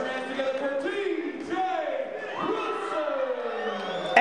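A wrestling arena crowd roars and cheers loudly and continuously after TJ Wilson wins the North American Heavyweight Championship match, with whoops and rising shouts swelling near the end.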